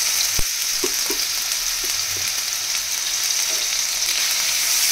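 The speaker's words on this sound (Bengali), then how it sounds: "আদা রসুনটা একটু ভেজে নেব।" Ginger garlic paste fries with onions in a pan, a steady loud sizzle with a few faint stirring clicks, close and without talk.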